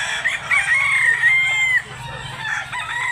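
A rooster crows once in a long, drawn-out call, fairly close, over a busy background of other birds and murmuring voices at a poultry market in Bantalongon, Cebu.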